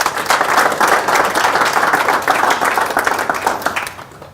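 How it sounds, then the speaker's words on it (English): A seminar audience in Auckland breaks into loud, close, sustained applause from many hands, holding steady for about four seconds before tapering off. "Can you give her a round of applause?"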